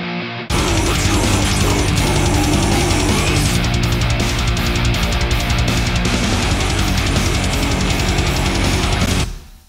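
Loud electric guitar through a distortion pedal on an amp simulator plays continuously, thick and gritty with chugging chords, starting abruptly and cutting off at the end.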